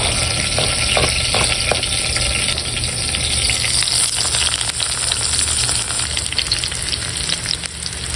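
Garlic fries in a pan for a bottle gourd curry cooked outdoors in a garden, giving a loud, steady, close sizzle and hiss throughout with a few light scrapes of stirring early on.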